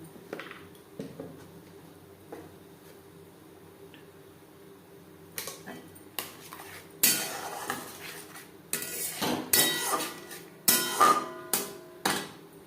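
Metal utensil scrapes and clinks against a pan, quiet at first, then a run of louder, rhythmic stirring strikes with sizzling underneath.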